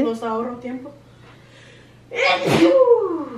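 A single loud, close sneeze bursts out in a rural kitchen after a stretch of Spanish conversation, followed by a brief breathy tail.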